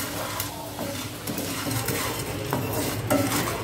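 Toor dal lentils dry roasted in a pan for rasam powder, with repeated metallic scraping and clinking of a spoon stirring against the pan, close and continuous, over a faint rustle of rattling grains.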